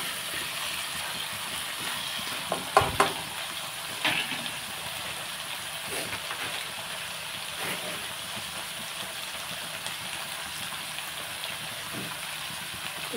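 Drumsticks and raw prawns simmer and sizzle in a pan for a spicy dry fry, a steady soft crackle and hiss throughout with a few brief louder clatters near the start.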